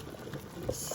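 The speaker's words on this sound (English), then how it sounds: "stops boiling all over the place" Caramel boiling over in a cooker, a soft continuous bubbling and popping close by, faint and short with a couple of slightly louder pops near the end.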